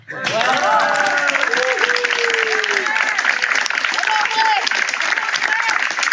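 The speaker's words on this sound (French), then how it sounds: "on peut l'applaudir très fort, Madame André Guic" An audience applauds Madame André Guic at the Fourchat bicentenary celebration, a loud, sustained roar of clapping with voices calling and talking over it.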